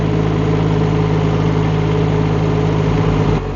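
A Rippa R18 mini excavator's diesel engine idles steadily after starting, a loud, close, continuous low rumble with a constant hum that drops slightly near the end.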